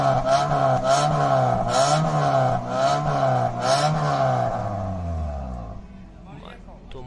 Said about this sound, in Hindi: लोगों को गाड़ी का साउंड मैं चेक करवाता हूँ।